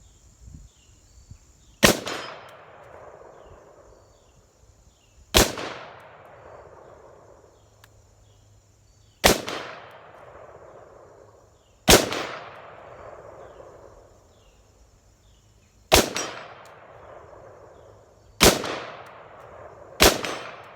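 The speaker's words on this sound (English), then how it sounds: "So I'm going to do a couple more shots." Seven sharp rifle shots fired one at a time at a target while testing a Sig Sauer Romeo5 red dot sight outdoors, each a loud crack with a ringing echo decaying over a second or two, spaced a few seconds apart, no talk.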